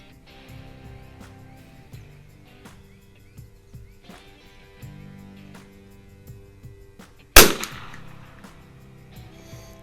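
A single sharp rifle shot from a Winchester 52C target rifle firing Norma Tac-22 rimfire ammunition, a loud crack with a short decay over a quiet outdoor range background with faint birdsong.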